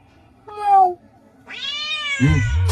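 A person imitates a cat's meow: two close, clear mewing calls, a short one and then a longer drawn-out one, ending in a low muffled voice sound.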